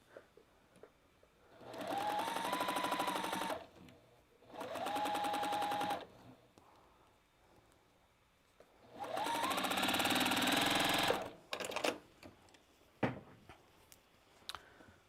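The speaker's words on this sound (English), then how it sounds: "So I'm just going to sew this and see." A sewing machine joins two quilting fabric squares in three separate runs of steady close whirring, each starting with a rising hum, separated by quiet pauses with small clicks and handling sounds afterward.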